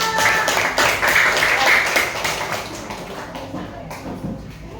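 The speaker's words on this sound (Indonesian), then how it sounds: "Tepuk tangan buat kelompok 5." A classroom group claps for a student team, producing a dense, even burst of applause that is loudest at first and then gradually thins and fades.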